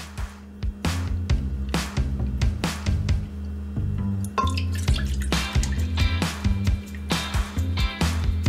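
Vanilla almond milk is poured while making low-carb keto butter pecan ice cream, giving close, clear splashing and dripping liquid sounds over rhythmic background music.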